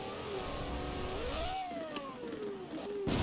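A car engine revs up and holds a rising then falling tone, a thin synthetic-sounding motor drone continuing steadily and close.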